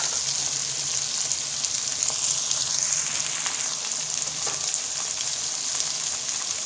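Ground spices such as turmeric and coriander sizzling in hot oil in a pan for a mixed vegetable sabzi, a steady dense hiss with a few faint stirring scrapes, close and unbroken, no voices.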